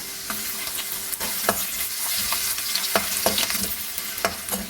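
Ginger and garlic frying in a pan for a white chickpea masala, with a steady close sizzle and repeated sharp scrapes and taps of a spatula stirring through it; no talking.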